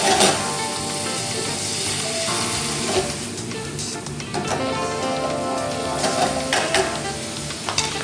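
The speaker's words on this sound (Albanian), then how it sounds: "Do i kapërdisim, derisa të zbuten pak perimet dhe mishi të marrë një skuqje." Vegetables and meat, seasoned with salt and pepper, sauté in a hot pan: a loud, constant close sizzle with repeated scraping and stirring clatter, no voices.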